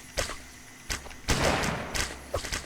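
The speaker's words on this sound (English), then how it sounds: "Man, those hand cannons do pack a punch." Hand cannons fire in a Colony Survival multiplayer game, a handful of sharp booming shots spaced irregularly across a few seconds, one heavier blast trailing into a longer rumbling decay, moderately loud with no talk.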